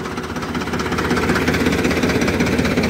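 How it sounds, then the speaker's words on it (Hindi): A Ford 3610 tractor, the first model and fitted with live PTO, runs steadily and loudly at close range, its diesel engine giving a continuous rough, knocking chug with no pause. "आवाज़ देखो कितनी प्यारी आवाज़ है ट्रैक्टर की"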